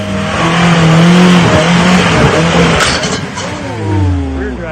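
A Stomper RC truck runs loud and close, its small electric motor whining and shifting pitch as it speeds up and slows, with a dip partway through and a climbing rev near the end.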